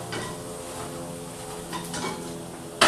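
Vegan food sizzles in a frying pan just after being flipped, golden on both sides, with a steady crackle and a few clinks of utensils against the pan over a faint tonal background, ending in a brief louder clatter.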